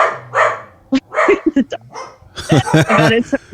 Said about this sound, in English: Those are actual dogs barking.